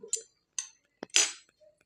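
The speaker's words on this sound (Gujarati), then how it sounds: "હવે આ ચમચીથી બરોબર આપણે મિક્સ કરી લઈએ" A spoon mixing ghee and gram flour for Mysore pak gives a few brief, close metallic scrapes and clinks against the pan, separated by silence.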